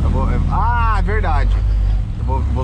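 A Chevrolet Silverado pickup with a tuned turbocharger and high-flow injectors climbs a hill with a steady low engine drone inside the cab, heard under people talking.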